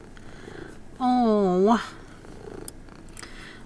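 A cat purrs close to the mic in a steady, rough hum that swells for under a second, framed by soft background noise and a brief spoken word.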